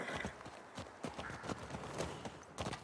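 Horse hooves clop in a quick, steady rhythm, as if at a trot, in The Last of Us Part II video game, with a faint whinny-free background and no talking.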